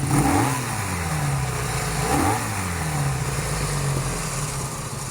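Cafe racer motorcycle, warmed up with the choke off after a carburetor fix, revs in a few rising and falling sweeps over a steady rumbling idle, close and loud with no talking.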